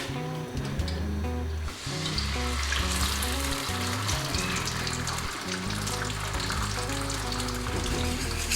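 Eggs fry in hot oil for egg and vegetable fried rice, a dense, loud, continuous crackling sizzle heard up close, with a steady low hum running beneath and no talk.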